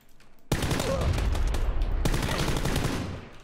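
Gunfire in PlayerUnknown's Battlegrounds on the Savage map, Abandoned Resort: a sudden loud burst of rapid shots, a brief break, then a second sustained volley that tapers away.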